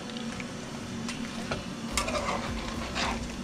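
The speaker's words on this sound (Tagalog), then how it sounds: "Haluin natin." Cajun shrimp stirred in a hot pan, a spoon scraping and clinking against the metal under a continuous close sizzle of frying.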